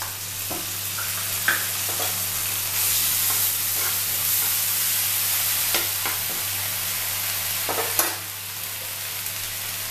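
Ginger, garlic and green chili paste sizzles and fries in a pan with steady hissing, while a spoon scrapes and stirs in intermittent clicks over low, constant background hum.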